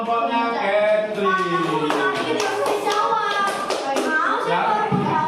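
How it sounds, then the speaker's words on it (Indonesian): Classroom applause for a presentation group, dense scattered hand clapping from a crowd of students, loud and close, mixed with children's voices talking and calling out throughout. "Oke, tepuk tangan untuk kelompoknya Gedli."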